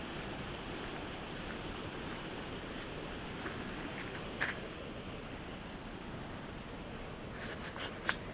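Rushing water on a walk in hilly country makes a steady broadband roar throughout, with a few faint clicks and scrapes near the end.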